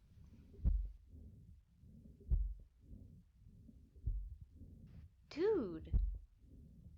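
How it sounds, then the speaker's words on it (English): Slow, deep thuds repeat about every second and a half like a recorded heartbeat in the woods, close and muffled. A brief warbling call cuts in near the end and a voice speaks once. "The heartbeat of the woods."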